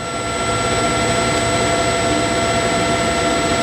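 An 18 x 40 inch TRAK TRL 1840SX CNC/manual flat bed lathe spindle running at 1,000 RPM, turning a chuck with a steady, even hum and faint whine that stay constant throughout.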